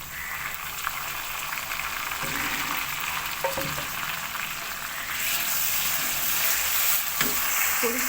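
Garlic and tomatoes fry in a pan for chicken keema, giving a steady close sizzle with occasional stirring clicks. It grows slightly louder near the end, and no one speaks.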